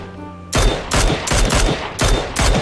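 Rapid bursts of rifle gunfire in the battle royale game PUBG, five or six loud sharp shots in a quick uneven rhythm, close and dominant with no talking over them.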